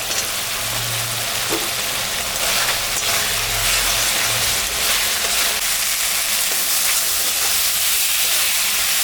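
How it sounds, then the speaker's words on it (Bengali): Fried potatoes are sautéed with spices, salt and turmeric in a pan, a steady moderate hiss and sizzle with low rumbling underneath and brief scraping touches. "এখন আমি ভাজা আলুটা দিয়ে দেবো,"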